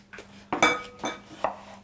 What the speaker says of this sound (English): Give it another chop for me.